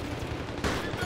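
Gunfire crackles in a Battlefield 3 multiplayer match, a dense continuous burst of shots heard at moderate loudness for about a second.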